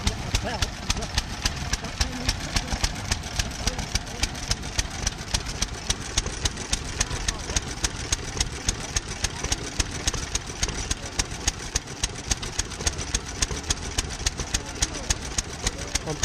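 Several old stationary engines running at the Henham steam rally, a rapid steady popping and banging beat that repeats throughout, close and fairly loud, with people talking over it.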